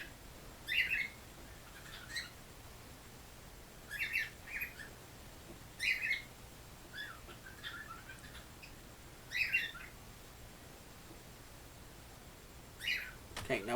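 A pet bird squawks in short, sharp bursts, about eight calls spaced a second or two apart over a quiet room background, fairly faint and with no talk over them.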